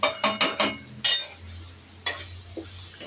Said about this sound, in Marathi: रवा आणि हलवून घेऊ चांगलं. हे बघा असं हलवून घ्यायचं.